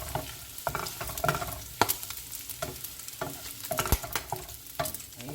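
Oily bacon crisps in a pan with a continuous sizzle, punctuated by sharp, irregular pops and crackles plus occasional scraping stirs, all heard close up.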